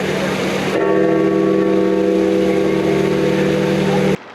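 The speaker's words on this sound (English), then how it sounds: "Under the tolling bells of St. Peter's Basilica" Church bells of St. Peter's Basilica in Vatican City toll during mourning for Pope Francis, a loud, steady ringing with sustained humming tones over a broad wash of crowd and street noise that stops abruptly near the end.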